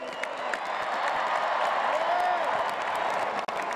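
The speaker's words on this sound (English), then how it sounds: "So definitely give the guys behind me a round of applause" A crowd applauds the team at a national championship parade and celebration, a dense, steady wash of clapping that holds at an even level for a few seconds with faint cheering mixed in.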